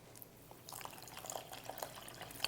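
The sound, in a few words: water poured onto dry cornmeal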